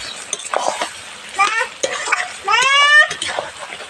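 Green chilies stirred into frying beef kala bhuna in a home kitchen pan, a loud sizzle with scraping stir strokes in uneven bursts, close up, with a brief voice in the background.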